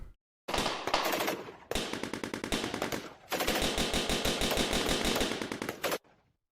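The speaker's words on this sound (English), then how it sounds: "Those gunshots there" Rapid bursts of gunfire sound effects from a sound design exercise, loud and close, arriving in three dense automatic volleys separated by brief silences, with no voices.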